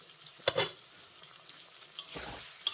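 Potatoes and softened tomatoes frying in a pan for a vegetarian cabbage dish, a faint low sizzle broken by a few scattered scraping stirs and clinks, close but quiet, no voices.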